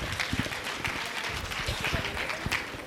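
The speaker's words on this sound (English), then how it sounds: "Please give them a good round of applause." Audience applause at an education conference session, a steady wash of clapping from a crowd that runs the whole time at moderate loudness, with some voices mixed in.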